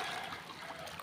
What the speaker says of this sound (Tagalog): maririnig mo yung mga alon na humahampas sa baybayin